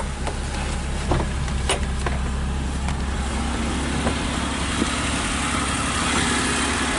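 A classic Mercedes-Benz engine idles with a steady low rumble nearby, accompanied by a few faint clicks and knocks.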